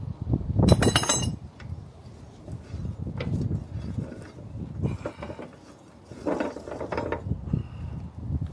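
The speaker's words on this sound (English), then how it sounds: "that's turning the sprocket underneath, I think, isn't it?" A sprocket turns beneath the deck of a Kubota G21 mower during servicing, giving irregular mechanical clanks, ratcheting clicks and metallic clinks in close, uneven bursts.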